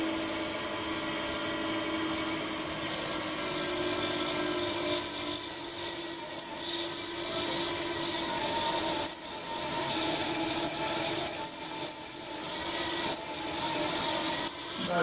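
A 775 DC motor drill running at 19 volts from a variable bench power supply, boring into metal with a steady grinding whir and scraping rasp throughout, close up and without speech.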